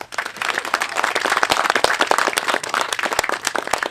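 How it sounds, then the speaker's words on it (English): Audience at Wings of Dreams clapping in welcome, a lively, dense burst of applause with sharp individual claps standing out, steady throughout with no talking. "give a round of applause,"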